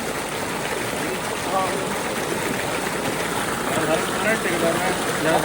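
Water pours steadily from an irrigation channel into a rice paddy, a dense unbroken rushing and gurgling flow at close range, with faint voices now and then under the stream.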